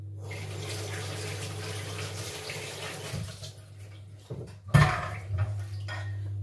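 Produce for a birthday cake is washed under a running kitchen tap, a steady close rush of water that stops partway through. A few clattering knocks in the sink follow, with no talking.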